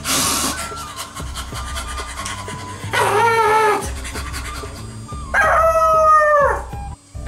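A voice imitates a very hungry dog, with two drawn-out whining, howling cries separated by quieter stretches with faint background music.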